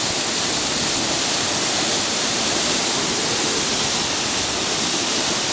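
A waterfall at Franz Joseph Glacier roars as a dense, constant wash of rushing water, loud and close with no pauses.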